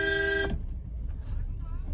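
Car horn sounding in a Manali traffic jam, a half-second honk that cuts off into engine rumble and road noise.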